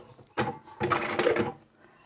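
A sewing machine stitches fabric hexagons for a Christmas placemat in two short mechanical runs, the second longer, close and moderately loud, with no talking.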